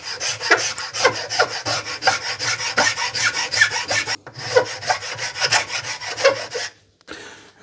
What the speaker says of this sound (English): so it should stay there while I file it